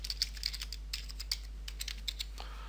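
Computer keyboard keys tapped in a quick, uneven run while a name is entered in toolbar-setup software, crisp clicks with short pauses, close and fairly quiet with no talking.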